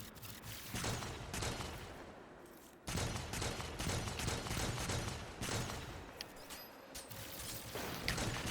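Rapid, dense gunfire from a ranged weapon in a video game, a steady loud barrage of overlapping shots running throughout with a brief cut partway.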